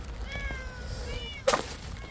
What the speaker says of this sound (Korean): 아유 야옹야옹해서 배고파서